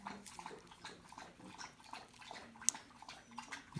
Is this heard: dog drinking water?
yes